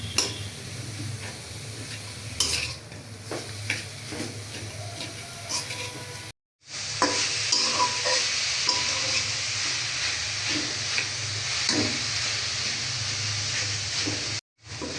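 Coconut mixed with date-palm jaggery is stir-fried in a pan, giving a steady low sizzle with repeated light ticks and scrapes from stirring, continuous apart from a couple of brief dropouts.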